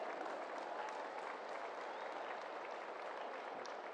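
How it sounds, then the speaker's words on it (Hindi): A large crowd at a stadium event welcoming Prime Minister Narendra Modi claps continuously, producing a dense, even wash of applause throughout with no breaks and no clear voices. "आइए जोरदार तालियों के साथ स्वागत करते हैं।"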